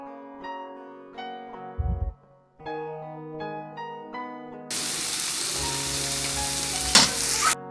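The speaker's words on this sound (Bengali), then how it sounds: "এই মশলা, চিংড়ি মাছ সহ এই মশলাটা ভেজে নিয়ে" Shrimp with salt, turmeric, chili and other ground spices frying in a pan: a bright tonal hum gives way midway to a loud, dense sizzle with occasional stirring knocks, and no voices.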